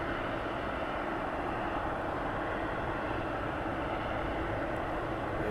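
A jet aircraft taxies at night at East Midlands Airport, a steady, distant broadband engine rumble and hiss that holds level throughout with no voices over it.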